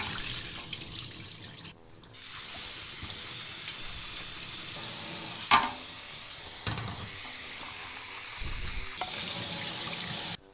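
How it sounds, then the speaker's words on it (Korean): Vinegar water drains away and fresh tap water pours into a bowl to soak seaweed for a vegetarian seaweed soup. The water rushes steadily and close for nearly the whole stretch, with a few brief splashes and clatters. "자, 이제 식초물 버리고요 새로운 물에 담겠습니다."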